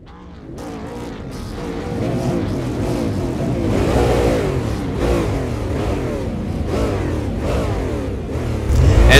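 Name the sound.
race car engines starting and revving on the grid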